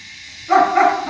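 A young puppy in training lets out loud, close yappy barks, two or three quick bursts after a moment of quiet.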